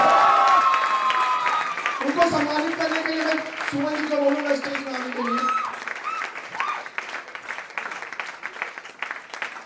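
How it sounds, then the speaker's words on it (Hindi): Audience applause at an award and recognition ceremony, steady clapping running through the whole stretch while a presenter speaks over it through a microphone. "ताली भैया, ताली थोड़ा जोर पड़ना चाहिए।"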